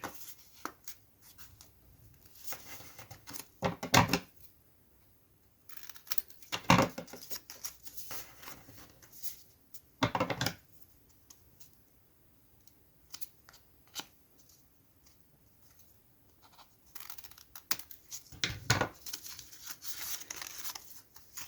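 Paper tags for an accordion booklet are cut in several separate bursts of crisp paper cutting and rustling, close and fairly quiet, with long near-silent gaps between them and no speech.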